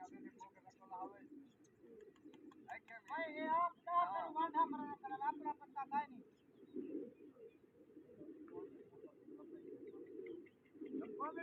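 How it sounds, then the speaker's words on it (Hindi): Pigeons cooing and calling at a rooftop pigeon-flying contest, a series of bird calls mid-clip with fainter ones later, under a constant low hum and background voices. "कबूतर माशाल्लाह से उड़ रहे हैं"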